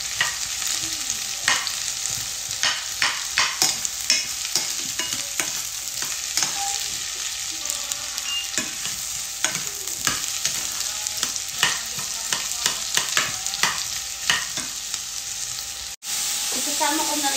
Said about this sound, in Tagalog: Tapos, haluin natin ng konti.